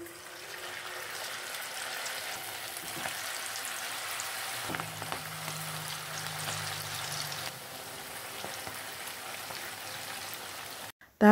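Batter fritters made with instant noodles deep frying in hot oil, a steady broadband sizzle and crackle that carries on unbroken with no voices.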